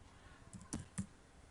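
Several crisp keystrokes on a computer keyboard, a few quick isolated clicks typed close to the microphone in an otherwise quiet room.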